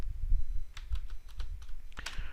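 Code being typed on a computer keyboard in a Selenium programming session: a quick run of distinct, close keystroke clicks with short pauses between bursts, with no talking.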